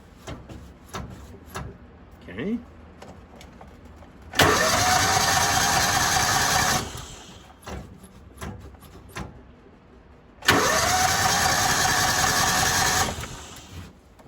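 A Kawasaki Mule 550 UTV's small engine cranks and fires twice, each time running loud and steady for a couple of seconds before cutting out, with clicks and handling noises between the runs.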